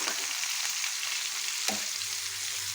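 Chicken sizzles in a pan of garlic butter with a steady, close hiss. A brief scrape of stirring cuts through the frying.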